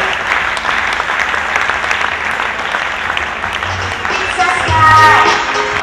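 A seminar audience in Ludhiana welcomes a woman onto the stage with loud, continuous clapping that runs throughout, thickens and swells toward the end, and is joined briefly by a faint tonal sound.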